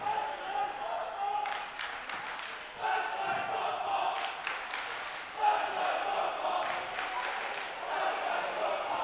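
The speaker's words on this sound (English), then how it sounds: "a stupid chant saying let's play football instead of cheering for this girls volleyball team" A crowd in a gym at a girls volleyball game chants in a steady rhythm, voices rising in repeated bursts above the hall's background murmur, with occasional clapping and a sharp thump midway.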